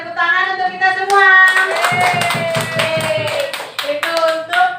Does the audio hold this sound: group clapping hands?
yes